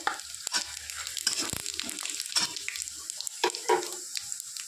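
Cinnamon sticks and cumin seeds hit hot oil in a pan, crackling and sizzling in scattered quick pops with some stirring scrapes, close and moderately loud, with no talk.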